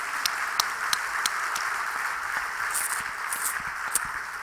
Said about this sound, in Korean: 뜨겁게 한번 다시 한번 박수하십시다